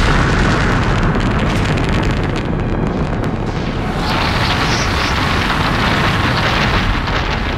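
Nuclear warheads detonating over Washington, D.C. in an alien-attack scenario: a massive, continuous roaring blast rumble that stays loud and dense throughout, with no pauses or talk.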